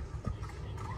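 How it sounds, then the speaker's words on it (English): Soft clip-clop of LAPD patrol horses' hooves along the Venice canals in Los Angeles, a few quiet hoofbeats over low outdoor background noise. "LAPD on the horses,"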